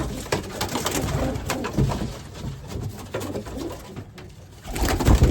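A racing pigeon coos close by in repeated low, throaty bursts, with a steady rhythm of calls and no talking.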